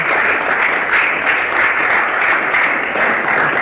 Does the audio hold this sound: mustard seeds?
no